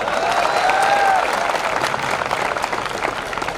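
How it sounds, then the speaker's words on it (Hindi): Audience applause at a public gathering, a steady wash of clapping filling the whole stretch at fairly loud level, with some voices and a tonal whistle-like sweep early on mixed in. "ताली बजाओ ढंग से।"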